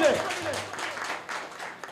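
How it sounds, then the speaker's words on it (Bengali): Loud applause from an audience at a Bengali jatra theatre stage ceremony, steady clapping running under a voice on the microphone. "জোরে হাততালি সবাই মিলে"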